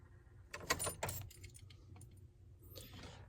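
Keys jangle close and fairly quiet as the key goes into the ignition of a 1999–2007 Chevy Silverado pickup, with a cluster of metallic rattles followed by scattered small clinks and a last brief jingle.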